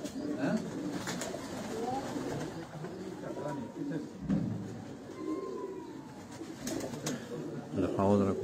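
Breeder pigeons coo in soft, repeated rolling calls nearby, with people talking over them and occasional handling noises.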